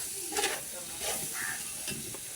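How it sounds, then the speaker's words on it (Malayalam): Turmeric, coriander, chili and garam masala powders are stirred into sizzling chicken curry, with a few soft scraping strokes over a steady frying hiss, close and moderately quiet. "പൊടി കൂടെ ഇട്ട് നല്ല ഇളക്കുക"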